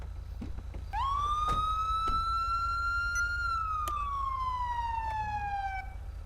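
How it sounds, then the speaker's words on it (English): A police siren from the video game GTA 5 wails in one long rising and falling sweep, moderately loud, over a steady low background hum with a few faint clicks and no speech. "What was that siren I just heard?"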